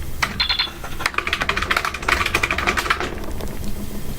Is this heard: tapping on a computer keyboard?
yes